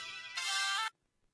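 A mobile phone rings for an incoming call, a bright, steady electronic tone that swells louder midway and then cuts off abruptly into silence.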